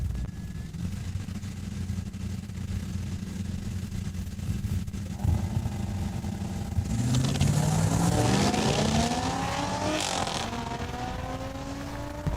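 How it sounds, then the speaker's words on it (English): An Audi and a GTA Trans Am launch down a drag strip at Saskatchewan International Raceway, with an idling rumble giving way to loud revving acceleration and rising engine pitches under faint announcer talk. "Going to go down the track with Graham Robertson out of Saskatoon"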